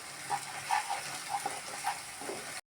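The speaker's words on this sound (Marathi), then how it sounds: "आता कांदा टोमॅटो मस्त फ्राय झालेत, आपण वाटलेलं वाटण टाकायचं 2 चमचे आणि ह्याला पण थोडं भाजून घ्यायचं" Ground masala paste roasting in a pan with fried onion and tomato for kaleji masala, a soft steady sizzle with light stirring scrapes and small pops, close and fairly faint.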